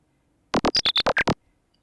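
Eight short, sharp synth stabs in quick succession, each with a piercing high-pitched peak, then silence.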